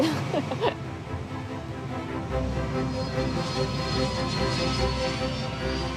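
Airbus A321 jet on its takeoff roll with a steady, loud engine roar and rumble that builds and holds, no talk over it.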